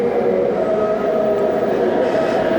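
A train pulling into a station, a steady loud rumble of wheels and carriage noise filling the whole stretch without pause or speech.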